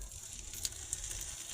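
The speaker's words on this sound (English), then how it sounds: "y'all hear it sizzling?" Faint, steady sizzling of chickpea coconut curry in a pan, a soft crackling hiss with a few small pops, no voices.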